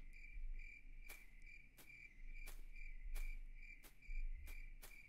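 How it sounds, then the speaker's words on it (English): Crickets chirp steadily in a horror video game, with sharp, regularly spaced pulses over a low droning background, clear and unbroken by speech. "Very, very apt use of cricket noise there."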